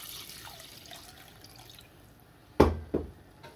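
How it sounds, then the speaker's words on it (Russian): Kidneys are rinsed and their water poured off in a kitchen sink during cooking: faint background trickling gives way to two short, close splashes of poured water near the end. "И точно так же полностью выливаю, мою и ставлю их варить третий раз."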